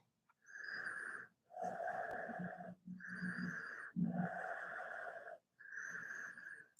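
Slow, deep yoga breaths drawn in and out through the nose, five long audible cycles with short pauses between, close and steady, during shoulder stand and plough poses in a twisting-focused YogaFit class.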